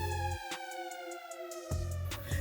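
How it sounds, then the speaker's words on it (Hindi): A village siren sounds to begin a nightly digital detox, a steady wailing tone with stacked harmonics holding throughout, loud and close, with low rumbling at the start and end. "सायरन बजा"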